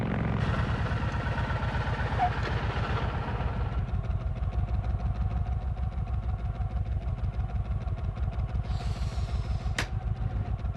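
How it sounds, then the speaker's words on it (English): A Kawasaki Vulcan 1500 Classic motorcycle with a large V-twin engine idles close by, a steady, lumpy low throb with evenly pulsing firing beats that continues unbroken throughout. "The new Kawasaki Vulcan 1500 Classic, with the biggest V-twin ever to hit the asphalt"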